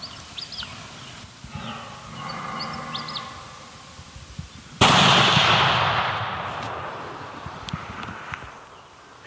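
A single sharp, loud gunshot cracks out in the woods while hunting an Alabama buck, then echoes and rolls away slowly; faint bird calls come before it.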